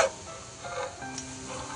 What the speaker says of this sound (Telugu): ఈ పల్లీలు మంచిగా ఫ్రై అవ్వాలి బాగా.